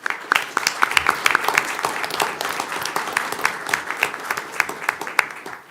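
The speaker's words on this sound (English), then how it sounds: "So if you give Aiden Scott a big round of applause" Applause at a school board meeting honoring a region player of the year, a crowd of hands clapping with distinct sharp claps standing out over a steady bed, moderately loud throughout.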